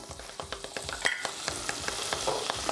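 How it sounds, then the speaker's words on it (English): Butter melting and sizzling in a skillet for a sauce, a moderate close crackle with short rhythmic stirring or scraping taps and no talk. "we're gonna get some butter going in our skillet"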